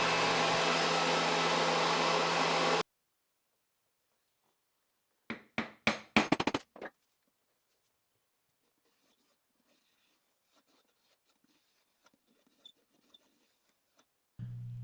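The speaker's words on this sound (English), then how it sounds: "Next, I ran it through the planer with shallow passes to minimize tear-up." A thickness planer takes shallow passes on a cocobolo board, roaring loudly for about three seconds before cutting off. A quiet gap follows, then a cluster of short knocks and faint scattered clicks before the roar starts again.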